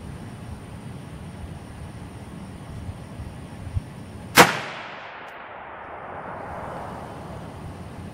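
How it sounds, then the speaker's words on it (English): A single loud rifle shot fired through an ATN X-Sight II HD 5x20 scope, a sharp crack followed by a long rolling echo that fades over several seconds against quiet outdoor background. "So now let's take one more shot at full zoom."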